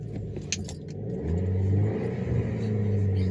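An Audi TT MK2 engine cranks and catches, settling into a low, steady rumbling idle close by after a brief jingle of keys at the start.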